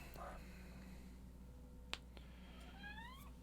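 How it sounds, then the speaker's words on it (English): A house cat gives a short meow-like call late on, a few faint rising tones near the microphone over a quiet room hum, with a brief sharp tap just before it. "And there's the cat."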